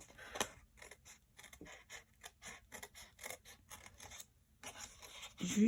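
Scissors cut straight through paper in a quick run of crisp, evenly spaced snips, close and clear, with no talk over them; the work is scrapbooking card making.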